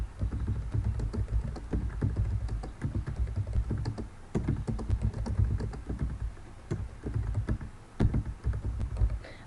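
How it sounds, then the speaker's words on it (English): Rapid typing on a computer keyboard while entering a title in Google Docs: a dense, irregular stream of close key taps and thunks with brief pauses, no talking. "type your topic"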